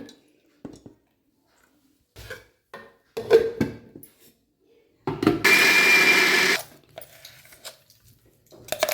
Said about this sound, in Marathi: भिजू घातलेलं पूर्ण डाळ मिक्सरला लावून घेतलं